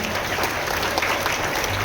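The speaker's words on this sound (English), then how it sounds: "Let us give a round of applause and congratulate them." Applause from an audience at a school investiture ceremony, a steady wash of clapping that carries through the whole short stretch at an even, fairly loud level.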